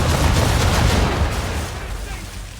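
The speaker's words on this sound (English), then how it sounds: "Bring around broadside, and when all guns are on target, call fire." Ship cannons fire a broadside in the Assassin's Creed 3 video game, a dense rumbling barrage of booms blending into a loud roar that slowly fades, with no voices heard.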